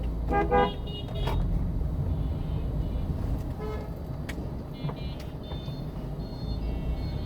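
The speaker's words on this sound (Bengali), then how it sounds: "সাবধান, হর্ন দাও।" A car horn gives a short pair of toots up close near the start, followed by a steady engine and road rumble from inside the car.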